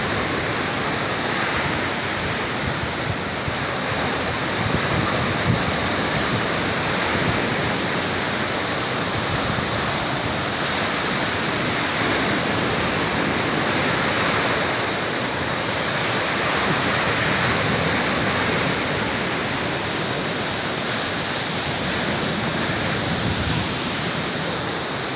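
Waves washing against a rocky beach, a steady, dense roar of surf that keeps up without a break, with gentle swells in loudness and a little wind noise.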